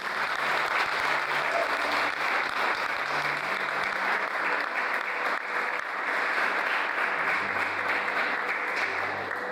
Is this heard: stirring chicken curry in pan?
no